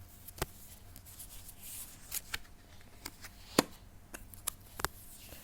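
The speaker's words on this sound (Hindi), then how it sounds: "नए क्वेश्चन के लिए एक बार फिर से मैंने कार्ड्स शफल करे हैं" A deck of tarot cards shuffled by hand, faint and close, with a series of sharp riffling snaps and soft slides spaced irregularly over a quiet background.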